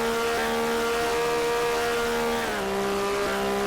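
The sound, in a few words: race car engine revving, from a racing video game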